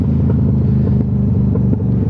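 Deep, throaty R7 motorcycle exhaust rumbling loudly up close while riding through St Kilda and Albert Park, a continuous pulsing burble.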